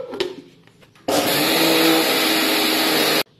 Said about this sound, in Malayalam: ഇനി നമുക്കിത് ഒന്ന് മിക്സിയിൽ അടിച്ചെടുക്കാം.